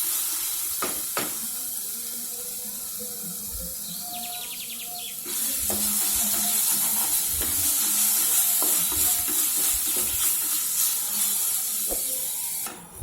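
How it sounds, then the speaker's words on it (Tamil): Small onion chutney sautéing in a pan, a soft sizzle with scattered stirring scrapes that swells into a louder, steady hiss about halfway through and continues to the end. "இந்த சட்னியை நல்லா வதக்கிக்கணும்."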